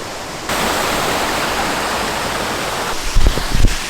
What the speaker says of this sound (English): We're literally at the base of the waterfall.